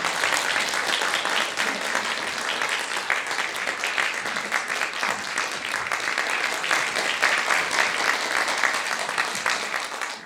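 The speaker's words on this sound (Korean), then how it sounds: "큰 박수 부탁드리겠습니다." An audience at a lecture applauding in a warm welcome, dense sustained clapping from many hands filling the room evenly for about ten seconds without a break.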